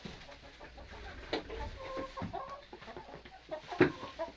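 Hens on a backyard flock cluck softly in short, scattered calls close by, with a couple of louder squawks standing out above the low bustle of movement.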